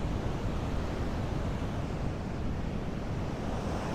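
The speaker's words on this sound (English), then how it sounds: "This beautiful sound of the ocean right here." Ocean surf washing onto the beach at Monrovia, a steady, broad roar of breaking waves with wind noise, continuous and fairly close, with no voices.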